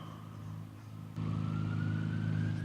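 A sports car engine idles with a low steady hum, then steps up abruptly into a louder, fuller drone with a rising whine.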